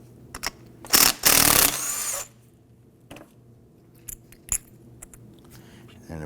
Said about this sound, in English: I'm going to get and remove the bolt in the center.